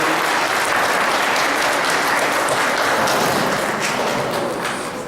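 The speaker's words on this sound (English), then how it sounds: "please join me in giving all these candidates a round of applause" A room full of people at a district meeting gives a sustained round of applause for the candidates, loud and dense, steady for several seconds before starting to thin out at the end.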